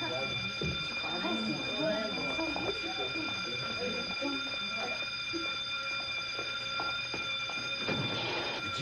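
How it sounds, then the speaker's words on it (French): A fire alarm in a 1987 French television episode rings with steady high-pitched tones held throughout, while voices talk and move beneath it. "c'est toi qui as déclenché l'alarme?"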